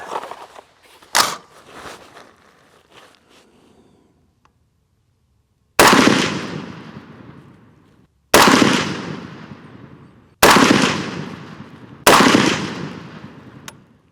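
A PSA Sabre .308 AR-10 rifle fires 150 grain Hornady American Whitetail rounds at an outdoor range: four loud, sharp gunshots spaced a few seconds apart, each trailing off in a long echo, after softer handling clatter and a pop at the start.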